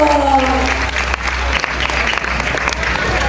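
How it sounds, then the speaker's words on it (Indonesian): Students at an Islamic boarding school gathering are applauded with steady, dense clapping from a crowd, fairly loud throughout, with a voice briefly heard over it at the start. "Tepuk tangan untuk santri Azikra."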